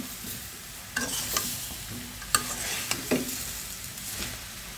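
Pangas fish head and papaya curry sizzles steadily in a pan while being stirred, with scattered scraping clicks from the spatula over a continuous frying hiss.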